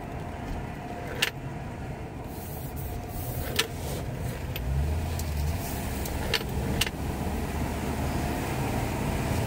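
A 1979 Ford Granada 3.0 GL Auto pulls away from the Bridge of Allan classic car show, its engine a steady low hum close by, with a few brief clicks and knocks standing out along the way.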